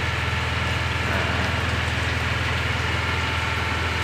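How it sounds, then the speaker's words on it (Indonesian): Steady rain falls on a ship moored at a harbour in Lamongan, a dense even hiss with a low engine-like hum running underneath throughout, no talk. "Di Lamongan ini sekarang lagi hujan."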